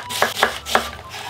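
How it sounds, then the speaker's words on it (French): Knife chopping onion on a board for a meatloaf, three crisp close cuts in quick succession with no talk. "On coupe comme ça."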